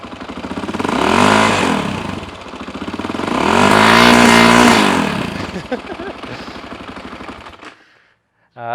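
A 2001 KTM 520 EXC motorcycle engine fires after a kick start and revs hard in two loud surges, then settles to a rough idle and cuts out near the end.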